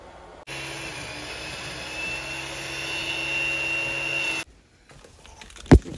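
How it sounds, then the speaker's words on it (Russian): Grass being mowed at a dacha, a steady motor whine with a high tonal hum running for about four seconds close by, then cutting off abruptly, followed by a quiet pause and a single sharp knock. "Запрягли Артема косить траву, но он вроде и не против"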